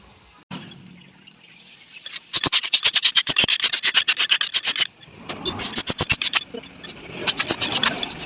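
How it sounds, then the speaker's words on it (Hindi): A motorcycle carburetor is cleaned with fast, rhythmic rasping strokes, heard up close in two bursts of steady scrubbing with a brief pause between them. "हमने गाइस कार्बोरेटर साफ़ कर दिया।"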